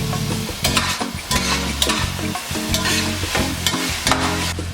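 Vegetables fry in coconut or olive oil while being stirred, a steady close sizzle broken by repeated scraping strokes of a utensil in the pan, with no talking.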